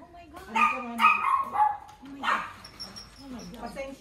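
Dog barking in a California garden, a few close, sharp barks and yips in the first half with a softer whimpering bark later, while people talk nearby.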